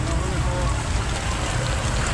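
Rain falls steadily during a slow-moving traffic jam at Hazaribagh Beribadh, a dense, even hiss of downpour with low rumble underneath, constant throughout.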